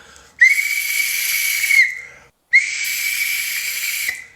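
Referee's whistle blown twice at a PSG versus Lyon Coupe de France final, two long shrill blasts of about one and a half seconds each, loud and close with a short pause between them.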